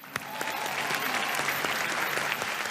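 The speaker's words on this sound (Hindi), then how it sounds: "तालियां।" An audience at an awards show claps heartily, with dense sustained applause and a few sharper individual claps standing out. It stays loud and even across the whole stretch.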